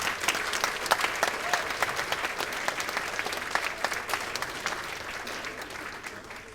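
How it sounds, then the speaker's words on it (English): Wedding guests applaud in a steady, dense burst of clapping from a full room at a wedding speech, sustained for several seconds and slowly tapering. "give a big round of applause to everybody involved in the wedding today"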